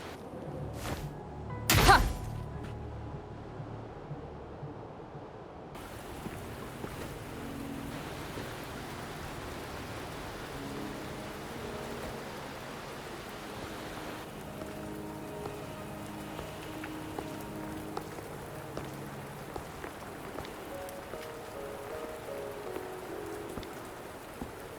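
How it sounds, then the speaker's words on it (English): Steady rain falling in the video game Wuthering Waves, a soft continuous patter on surfaces, moderately loud and unbroken after a couple of brief thumps at the start. "Are you trapped here by the rain?"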